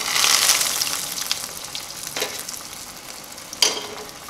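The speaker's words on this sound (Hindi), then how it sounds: "ऑयल गर्म हो गया है, इसमें हम डाल रहे हैं बाइट।" Potato bites coated in bread crumbs sizzle loudly in hot oil over a medium flame, a steady crackling hiss with a couple of sharper splashes as more pieces go in.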